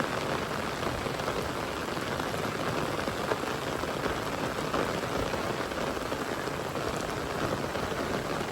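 Super heavy daytime rain pours down in a village, a dense, steady, loud hiss of water on surfaces with no pauses and no voices.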